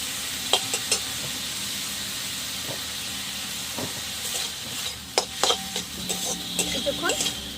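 Gima greens with ground poppy seed paste being stirred and fried in a pan, a steady sizzling hiss broken by scattered scraping strokes of a spatula, close and moderately loud, no talking.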